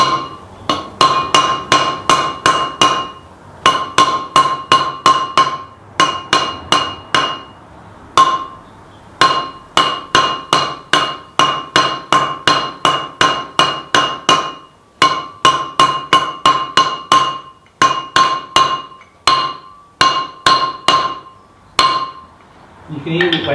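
Metal hammer strikes driving a bearing into place on an extreme off-road Land Rover Discovery 1 build, a long run of sharp ringing clinks in quick bursts with short pauses, loud and close throughout.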